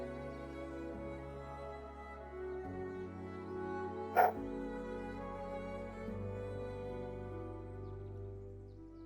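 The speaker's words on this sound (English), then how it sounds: "Sorry if you can hear a dog barking in the background." A dog being looked after for a friend barks once, sharp and brief, somewhere in the house, rising over a steady bed of soft sustained tones and then fading back.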